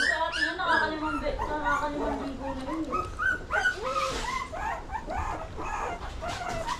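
Several puppies bark, yip and whimper in a noisy, overlapping chorus close by, while people talk over them throughout.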